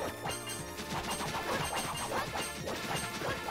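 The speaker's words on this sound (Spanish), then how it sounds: "Mira cómo te meto tu chinga, Kirigui." Hits landing on an enemy in the Castlevania fighting game, a rapid barrage of crashing, thwacking impacts layered over dense game music and effects, loud and continuous.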